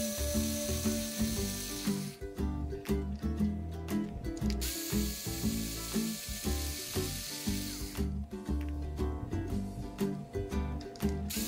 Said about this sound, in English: you'll need to remove the 4 screws.